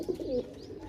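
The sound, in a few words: pigeon cooing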